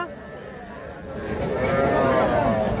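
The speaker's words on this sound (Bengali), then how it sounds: "একটা শাহিওয়াল জাতের বকনা বাছুর, রানীগঞ্জ হাট থেকে দেখতেছেন আপনারা" A Sahiwal heifer calf at Raniganj cattle market gives one long, rising moo that swells in loudness, with faint crowd murmur behind it.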